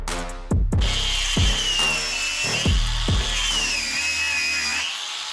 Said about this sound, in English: take the grinder and cut it